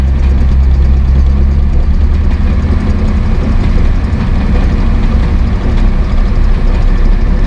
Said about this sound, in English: it's idling in fourth gear, so there's no resistance on the wheels at all, and I can still hear when I rev it up.